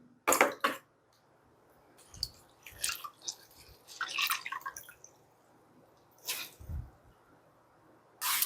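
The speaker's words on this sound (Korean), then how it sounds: "물에 한번 헹궈 줍니다. 한 번 더 헹궈 줄게요." Raw octopus being rinsed in water for a Japanese vinegared octopus dish: scattered wet drips, squelches and splashes come in short bursts with quiet gaps, close up, and no one speaks.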